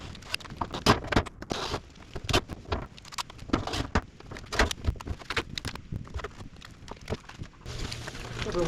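Rain during a hail storm patters unevenly nearby, with irregular sharp taps and clatters of varying strength.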